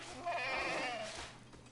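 A sheep bleats in the post-apocalyptic video game Far Cry New Dawn, one wavering bleat lasting about a second, fairly close and clear with no talking over it.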